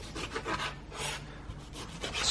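A knife slices a cold piece of raw meat into squares for grinding, with repeated close scraping strokes in a steady, uneven rhythm and no talk.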